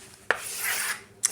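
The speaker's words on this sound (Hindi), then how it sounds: "इसको मैं इरेज करूंगा स्टूडेंट" A classroom board is wiped clean of written maths working. A single rubbing sweep sits between two sharp taps, close and fairly loud.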